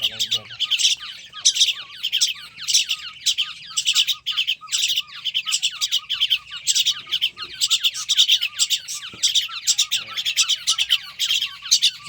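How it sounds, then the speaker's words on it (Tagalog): Pet starling chirping close by in a steady stream of bright, rapid, repeated tweets and squawky notes, with faint background noise. "meron din tayong alagang isang starlings mga kapagaw"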